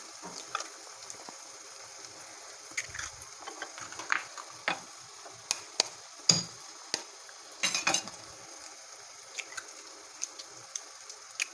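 Eggs for egg bhurji being beaten with a spoon in a bowl, light irregular taps and clinks against the bowl at close range over a quiet background.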